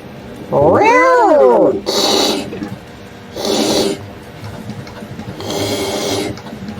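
A human voice imitates a cat, giving one rising and falling meow followed by several breathy, rasping bursts separated by short pauses.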